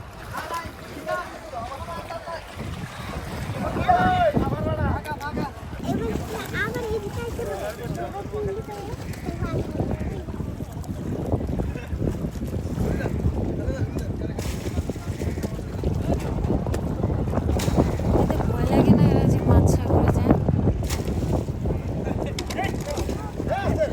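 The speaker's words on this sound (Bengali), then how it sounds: "এই যে ওনারা যাচ্ছে ওই ট্রলার আসছে" A fishing trawler pulls in at a busy hilsa fish market in Chittagong, Bangladesh, its steady engine and water rumble running throughout beneath wind and the chatter of people nearby.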